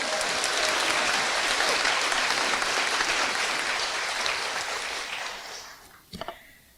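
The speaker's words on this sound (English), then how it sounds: "Please clap." Audience applause at a high school graduation ceremony, a dense loud wash of clapping that holds steady and then tapers off, ending in a few scattered claps.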